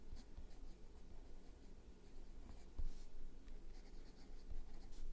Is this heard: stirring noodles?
no